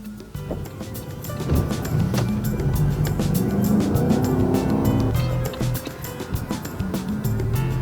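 A Holden ute drives along with a steady engine drone and road noise, rising slightly then easing, with a tyre chirp and clicks over the top and no talk.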